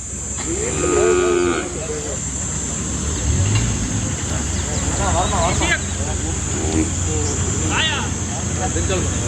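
Cattle at a busy village cattle market moo repeatedly over several seconds, several calls rising above a steady murmur of nearby voices and background engine noise.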